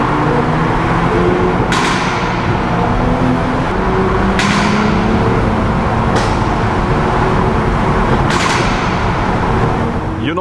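A Mercedes GLE drones loudly nearby in city traffic in Hamburg, a continuous rumbling engine and exhaust note punctuated by four sharp, evenly spaced cracks, heard close from a following car.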